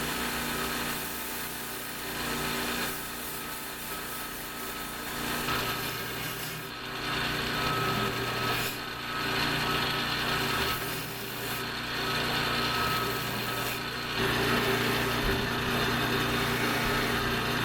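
Knife blade being sharpened at 400 grit on a power tool, a continuous close grinding whir with steady abrasive hiss that swells slightly in passes.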